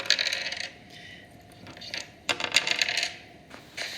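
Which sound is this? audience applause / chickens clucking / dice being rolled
dice being rolled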